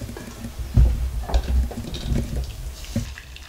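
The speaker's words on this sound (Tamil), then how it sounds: "தண்ணியை வடிச்சிடலாம்." Cooking water is poured off boiled green gram and tomatoes, a continuous splashing pour in a kitchen with a few louder sloshes.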